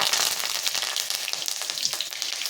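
Mustard seeds, cumin and curry leaves sizzling and crackling in hot oil for a vaghar, a bright close frying hiss with rapid irregular pops and spatters, no talk.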